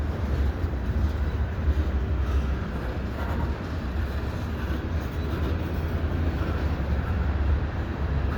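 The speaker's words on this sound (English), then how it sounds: "luckily I did get this train here at the Dorval ramps" CN westbound freight train at night, led by an ex-Citirail ES44AC locomotive, passing the Dorval ramps with a loud, continuous rumble and rolling rail noise that stays steady throughout.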